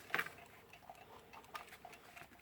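A little purple drum alarm clock with a bell on top ticks softly through its movement, a sharp click at the start followed by faint, regular ticks in a quiet room.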